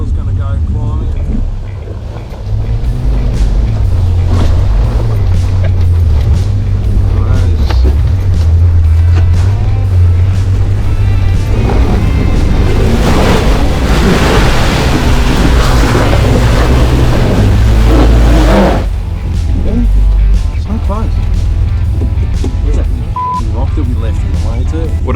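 A 4WD climbs a steep track at Mt Disappointment, its engine roaring steadily and loudly under heavy strain, mixed with buffeting wind noise and people talking in the cabin.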